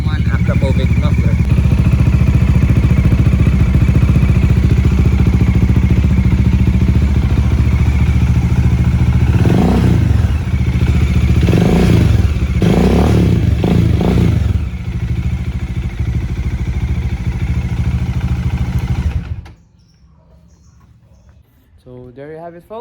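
A Bajaj Dominar 400 single-cylinder engine with an Akrapovic M1 muffler idles loudly up close, throbbing steadily, then revs in several quick rising bursts before settling and shutting off, leaving near silence.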